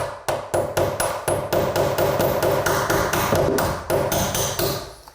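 A hammer repeatedly strikes a drill bit held against a door hinge to drive out the hinge pin, giving a steady series of about a dozen sharp, ringing metallic taps, close and loud, with no talking.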